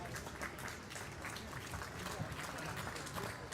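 A crowd in a high-school basketball gym applauds as a player fouls out, steady moderate clapping that blends with gym murmur and a commentator talking over it.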